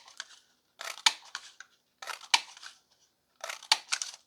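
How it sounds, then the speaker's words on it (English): Scissors snip through a piece of file folder paper while cutting out circles, three clustered bursts of crisp, close snipping and crunching separated by short pauses. "I'm just going to cut some circles"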